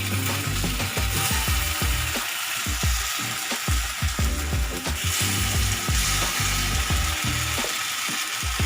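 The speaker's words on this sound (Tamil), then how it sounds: "ஒரு பணியாரக்கல் சூடு பண்ணியிருக்கோம். மாவு கொஞ்சம் கொஞ்சமாக எல்லாத்தையும் ஊற்றிடலாம்." White corn millet paniyaram batter poured into a hot paniyaram pan, frying with a steady close hiss, crackling and faint scraping of the pan throughout, no voices.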